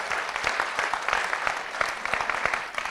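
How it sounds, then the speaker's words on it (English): An audience at a conference event gives a big round of applause, dense continuous clapping with distinct individual claps standing out, filling the room steadily throughout. "can we have a huge round of applause for them?"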